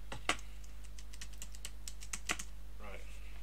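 Someone types on a computer keyboard at a live coding desk, giving a quick run of close, sharp clicks with a couple of louder strikes over a steady low hum, followed by a brief burst of speech.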